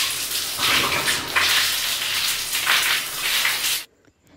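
Water pours and splashes over hair to rinse out shampoo, a steady gushing stream in uneven surges for almost four seconds, then stopping abruptly into near silence.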